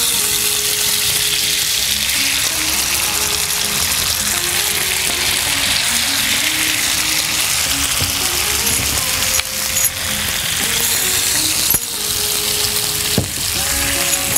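Thin-sliced beef for Korean bulgogi, treated with soda and cornflour, sizzles loudly and steadily on a hot griddle, a dense continuous hiss with occasional scraping and clanking of a utensil near the end.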